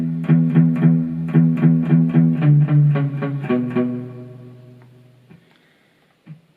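Electric surf guitar plays the final two bars of the intro, a quick run of picked notes with a bright chorus-like sheen, then a longer held note that rings out and fades, ending with a soft click.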